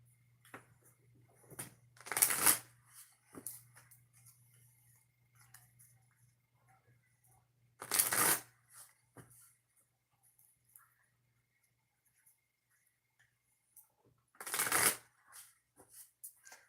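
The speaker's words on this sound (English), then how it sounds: "3 shuffles for Sagittarius." Tarot or oracle cards are shuffled in three separate quick riffling bursts spaced several seconds apart, close and crisp against a quiet room with a faint low hum and small handling ticks between them.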